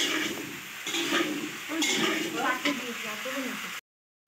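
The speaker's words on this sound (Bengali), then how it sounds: "মাংস কষা চলছে" Meat being braised in a large wok over a wood or clay fire, a steady sizzling hiss with scraping stir strokes, close by, while voices talk underneath.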